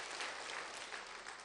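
A brief stretch of steady applause from a church congregation at a Sunday evening evangelism meeting, many hands clapping evenly without pause.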